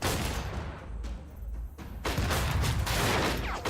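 Gunfire in the tactical video game Lethal Tactics, loud bursts of rapid shots with a booming blast, crackling on and off, then resuming heavily toward the end.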